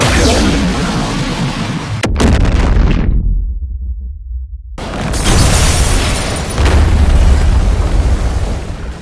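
A heavy explosion in a Godzilla film: a loud, deep boom and roar breaks off into a sudden silence, then a broad rumbling wash of debris and blast noise returns.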